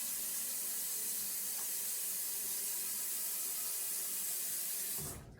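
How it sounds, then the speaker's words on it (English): Tap water pours steadily into a sink as a broad, even hiss, nearby and continuous for several seconds before cutting off at the end. No voices are present. "going to take the water straight from the tap."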